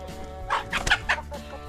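Hens cluck close by in a henhouse in a short burst of throaty, rising calls, several quick notes in a row over a quiet background.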